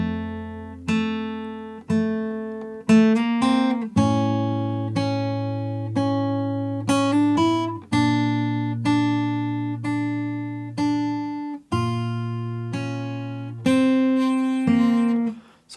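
Fingerstyle guitar intro of a song on a guitar in standard tuning: plucked notes in a steady rhythm, paired bass and treble notes with hammer-on slurs, phrases ringing and decaying, solo without voices.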